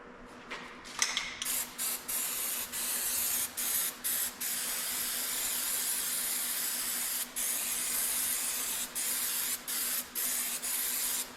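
Fluid Film is sprayed onto the face of a brake rotor on a 2017 Chevy in a series of short hissing bursts, close and steady, with brief pauses between them.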